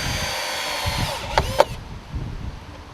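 A power drill drives the last screw into outdoor wooden decking: two short whirring bursts close together near the middle, loud against a low, rumbling outdoor background.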